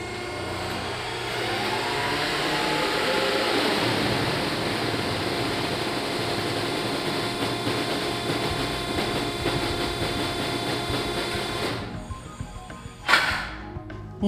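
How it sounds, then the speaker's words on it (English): A CRAM-A-LOT vertical baler runs with a steady, loud motor drone while the ram travels down and compresses material, holding its hum until the motion stops near the end, followed by a brief clunk. "Allow the ram to travel down and compress the material until movement stops."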